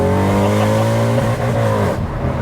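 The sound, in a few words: sports car engine revving after downshift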